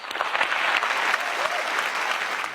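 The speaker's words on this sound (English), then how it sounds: "Let's give them a round of applause." An audience claps in sustained, dense applause after an on-stage introduction, steady and fairly close for the whole stretch, with no voices over it.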